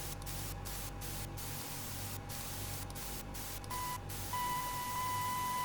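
Radio range station signal tuned in aboard a PMDG DC-6 in Microsoft Flight Simulator: steady crackling static with brief dropouts, then a thin steady tone emerges and holds loud over the hiss near the end.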